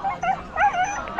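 An excited dog whines and yips at the start line of a parkrun canicross in Centre Vale, Todmorden, giving short high pitched whimpers in bursts that rise and fall over a steady outdoor background.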